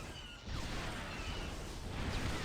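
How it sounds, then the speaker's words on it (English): Cannon fire pounding boats on a river map in Star Wars Galactic Battlegrounds, a dense, loud barrage of booming impacts and crashing hits layered over continuous battle noise, with no gaps. "We've got the cannons hitting the boats."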